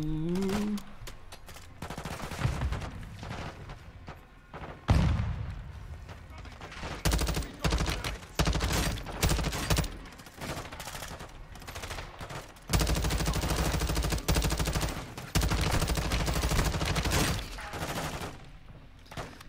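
Rapid automatic gunfire rattles through a Call of Duty Modern Warfare 2 firefight. Repeated loud bursts and sustained volleys come with brief pauses between them, over a continuous battle din.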